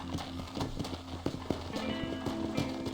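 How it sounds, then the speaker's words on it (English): Horses trotting in the video game Red Dead Redemption, a brisk run of hoof clip-clops in steady overlapping rhythm, close and fairly loud with game ambience behind. "Look at these here horses."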